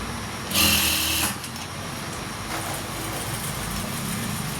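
A sewing machine stitching cloth piping, a brief loud whirring run near the start that settles into a softer, steady mechanical hum.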